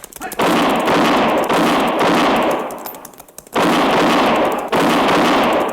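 Gunshots in a frontier Western radio drama, several loud sharp blasts in two bursts separated by a brief lull, close and dominant with no talk over them.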